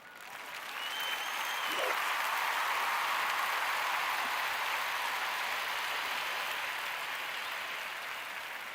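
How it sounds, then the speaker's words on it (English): Sustained applause from many hands, a dense steady clapping that swells in over the first second, holds evenly, and eases off slightly toward the end. "Let's just give them the clap"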